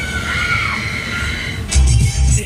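Riders on the Air Raid fairground ride at Tivoli Extreme scream together, a loud sustained crowd of shrieks followed by bursts of heavy mechanical whooshing and thumps.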